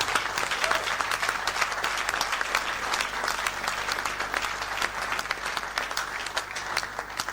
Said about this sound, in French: applaudissez fortement Paul Ella et tout son staff